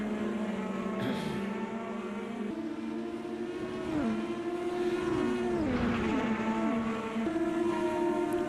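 Formula race cars screaming around the Gateway oval in a racing video game, several engines overlapping with rising and falling pitch sweeps as cars pass and shift, a continuous loud, close roar throughout.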